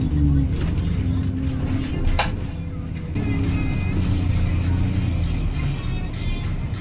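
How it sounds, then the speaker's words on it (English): Inside a moving bus, a loud steady engine drone and road rumble fill the cabin, shifting slightly in pitch, with a brief knock partway through. "So right now I'm on the bus."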